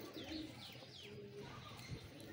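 Teddy breed pigeons kept by a breeder coo softly and repeatedly in short, rolling phrases, faint and fairly close, with a few light chirps in between.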